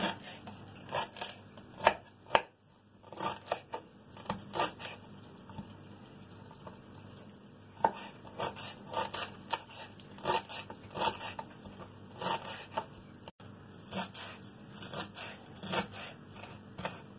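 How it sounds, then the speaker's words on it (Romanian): A knife chops parsley and carrot on a board in quick, steady taps that repeat closely for many seconds, near and distinct with no talking. "Spălăm pătrunjelul, îl tocăm, spălăm morcovul, o să-l tocăm pe fiecare în parte"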